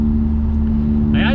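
A car engine hums steadily inside the cabin, a loud low drone with road rumble beneath it, and a brief higher whine near the end.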